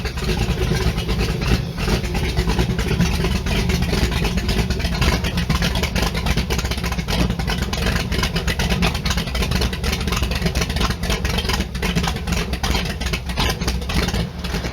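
A loud Allmand race boat engine runs continuously close by, a heavy throbbing idle with rough revving texture throughout.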